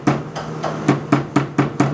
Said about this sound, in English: You'll see how much a hammer can actually planish it